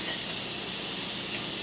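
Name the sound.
onions frying in oil in a skillet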